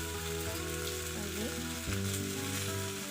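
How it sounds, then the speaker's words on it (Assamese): Fish frying in hot oil, a loud, steady close-up sizzle and crackle that runs the whole time, with faint tonal hum from the room underneath and no talking. "এয়া মাছ ফ্ৰাই কৰি আছোঁ"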